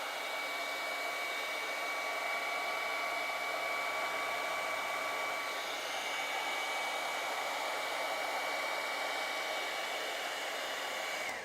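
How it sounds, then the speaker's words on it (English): A hair dryer heating tape on a drawing blows steadily and loudly up close, a continuous whooshing roar with a faint whine running through it. "I am going to take a hairdryer and heat this so that the tape comes off easier"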